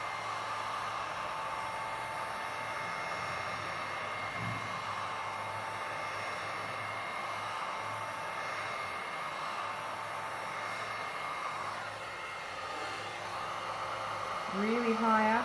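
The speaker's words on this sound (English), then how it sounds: "I'm going to go with the heat gun around the edge here and heat it up to help the movement of that silver" A heat gun blows a steady, loud rushing hiss of hot air over the edge of a resin floral painting, running continuously throughout with a brief faint whistling tone near the end.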